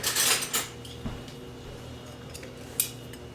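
A knife and cutlery being handled beside a Puerto Rican pernil pork roast, with metallic clinks and scrapes against a dish, a busier clatter at first, then sparse single taps, close and fairly quiet.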